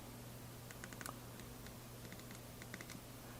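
Raised selector buttons on a Fujifilm X-Pro2 camera are pressed in quick, light clicks, scattered in small clusters over a steady background hiss.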